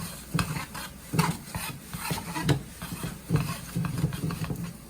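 A tortilla cooks in butter in a pan, giving a soft sizzle with repeated scraping and stirring strokes at a regular rhythm, close and fairly quiet, with no talking.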